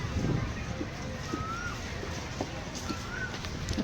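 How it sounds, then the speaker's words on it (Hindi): An Asian koel calls kuu kuu in a park in Delhi in the morning, two faint rising whistled notes set apart by a short gap over steady wind noise and a low murmur. "कोयलीर पूरा आवाज कू कू"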